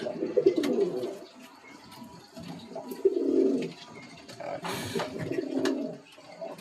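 Pigeons from a Kolkata bloodline breeding stock coo in low, rolling bursts close by, repeating in clusters with brief pauses and a short flutter-like hiss near the middle.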